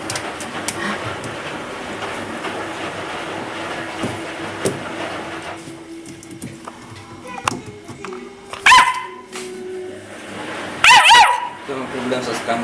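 A dog barks outdoors in a few sharp, loud bursts late on, after a stretch of low background noise and scattered clicks, with people talking nearby.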